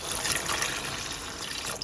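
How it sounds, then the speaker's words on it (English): Water is poured into a pot of stewing beef, a brief steady splashing pour that stays loud for just under two seconds with no talk. "You can add beef stock or water, but I'm gonna use water in mine."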